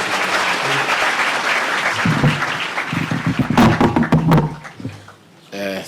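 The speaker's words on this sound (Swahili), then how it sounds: "Tupigie makofi." Applause from an audience welcoming the President, Your Excellency, at a school event at Kapsabet Boys, a steady wash of clapping with voices mixed in that thins out near the end.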